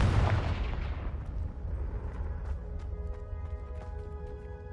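A Confringo blasting spell erupts in Hogwarts Legacy with a loud, deep boom, followed by a few seconds of crackling, decaying debris and ringing game ambience.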